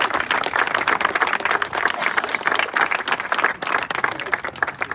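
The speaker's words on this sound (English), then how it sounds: "I'd like to give them a round of applause." An audience at a tennis alumni celebration applauds a championship team, a dense, loud, sustained round of clapping that continues for the full stretch.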